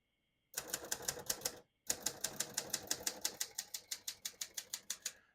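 Typing on a 1979 Hermes 3000 vintage portable typewriter, a short run of sharp keystrikes, a brief pause, then a steady even string of close clacks gradually softening.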